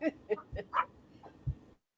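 Small puppies yip and whimper in short, irregular bursts close by, with a low thump near the end, in an indoor home setting where people are talking.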